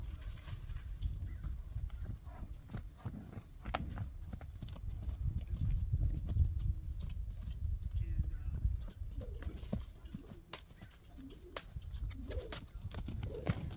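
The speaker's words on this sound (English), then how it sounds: "Off at a trot." A horse trots in a round pen, its hooves beating a steady, continuous clip-clop rhythm at close range, with faint bird calls in the background.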